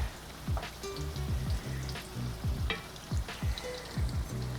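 Steak and onions frying in oil in a pan, a continuous crackling sizzle punctuated by regular low thumps and clatter of stirring or turning, close and fairly steady with no talking.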